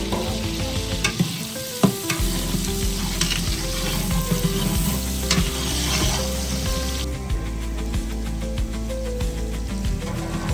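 Onions sizzling and frying in a pan of hot fat while being stirred, a steady close hiss with scraping utensil clicks throughout and no talking.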